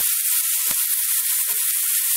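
Dried dates (chhuhare) roast in a pan for halwa, a steady bright sizzle that holds loud and close throughout, with a couple of soft knocks from stirring and no voices.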